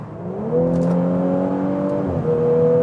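A Mercedes C43 AMG engine revs up and holds a loud, steady high-rpm tone, its pitch climbing early, then dipping briefly and rising again, close and continuous with no talking.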